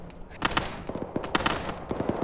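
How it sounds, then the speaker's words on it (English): Gunfire in Arma 3 with a ringing, musical tail: scattered sharp shots and short bursts at moderate distance, some overlapping, over a low background. "there's this weird musical quality to the end of this gunshot sound"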